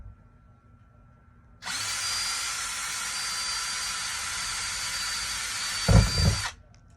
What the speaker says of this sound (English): So I'm going to start with just drilling my outside line.